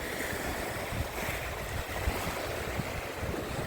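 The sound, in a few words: sea waves at the shore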